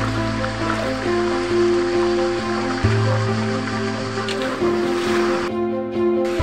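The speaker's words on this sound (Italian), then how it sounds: "Eccoci qui sull'orlo della cascata." The waterfall at the Roman dam of Corcolle near Rome gives off a steady, close rushing roar of falling water that stays loud and unbroken throughout.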